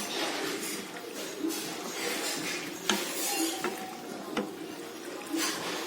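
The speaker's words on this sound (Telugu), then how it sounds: "ఈ మొత్తాన్ని నీట్గా మిక్స్ చేసుకోండి." A spoon stirs pasta into white sauce in a pan with soft scraping and a few sharp clinks against the metal, moderately close, over a faint background hum.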